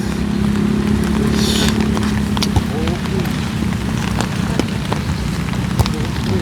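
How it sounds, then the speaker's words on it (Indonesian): Heavy rain pours steadily at an airport during a storm, a dense continuous hiss with scattered sharper drop impacts throughout. "Turun hujan guys, tadi deras sekali"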